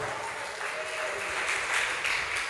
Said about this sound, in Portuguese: Dê um aplauso e glorifique o nome do Senhor.